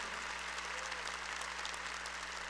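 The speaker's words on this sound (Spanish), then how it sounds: "Démosle un aplauso a todos los voluntarios de la Frater también." A church congregation applauds its volunteers with steady, dense clapping that fills the room evenly from start to finish.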